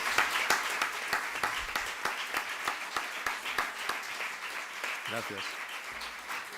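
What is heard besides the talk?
applause for Vicente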